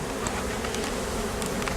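A dense, continuous buzz of bees swarming around a queen bee held in a small cage, steady and close, with no voices present.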